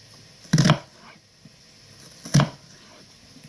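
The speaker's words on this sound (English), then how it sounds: "Then you just lay it out flat like so, and just cut it lengthways like you would do if you were doing it in a stir fry." A knife slices lengthways through an onion laid flat on a board, giving two distinct crisp cuts about two seconds apart in quiet surroundings.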